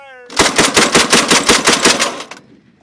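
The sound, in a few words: Mk 19 40mm automatic grenade launcher firing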